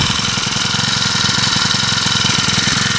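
Small Craftsman 4-cycle string trimmer engine running on half choke, a steady, close, rapid chugging putter.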